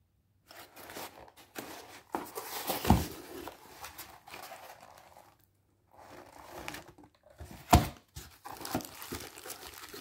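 Thin plastic bags crinkling and rustling as a cutlery set of spoons and forks, each piece separately bagged, is unpacked; close, irregular bursts of crackling with a couple of sharper crunches and short pauses.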